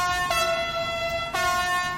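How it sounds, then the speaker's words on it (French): A TGV Duplex high-speed train in Train Sim World 2 sounds its horn: a loud, sustained, tonal blast that keeps going with a fresh attack partway through and is heard alone without speech. "Un petit coup de klaxon parce que je sais que ça vous fait plaisir."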